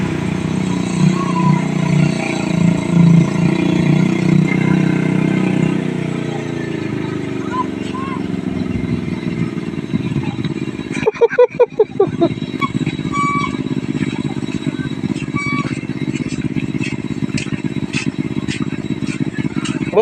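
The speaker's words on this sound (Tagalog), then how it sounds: "Ito yung mga kuliglig" An engine-driven kuliglig farm tricycle runs steadily with a rough, continuous motor drone and rattling, plus a brief burst of clattering partway through, while voices talk over it.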